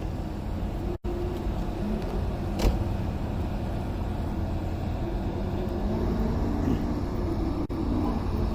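A Jaguar E-Type pulls up and parks close by at an SCCA autocross event, its engine a steady low rumble throughout with a brief break near the start.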